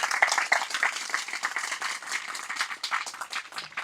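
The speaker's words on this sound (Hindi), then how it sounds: "आपका बहुत बहुत जोरदार तालियों के साथ स्वागत करें" Audience at a Hindi health talk clapping to welcome a speaker, a lively patter of many hands at moderate loudness, swelling and dipping unevenly throughout.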